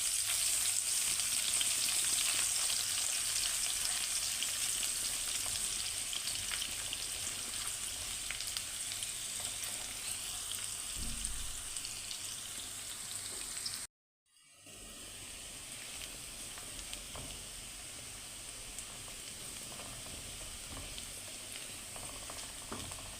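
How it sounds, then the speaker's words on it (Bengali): Onions fry in a pan for a katla fish curry, a long, steady, close sizzle with faint stirring scrapes and a brief cut in the middle, no talk. "এখন আমি এটার ভিতরে কিছু পেঁয়াজ দিয়ে দিব।"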